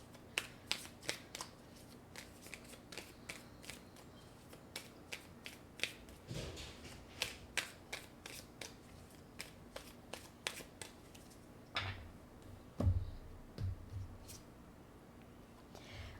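Oracle cards being handled and drawn: soft, quiet card flicks and snaps in an irregular string, with faint shuffling and a brief murmur of talk near the end.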